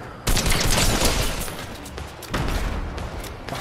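Sustained bursts of rapid gunfire fill a video game firefight, loud and dense from start to finish with a brief dip before a second heavy volley, and no talk over it.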